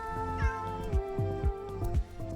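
Vincent's cat from the animated film The Nightmare Before Christmas lets out a few short, close meows, spaced about half a second apart, over steady sustained musical tones.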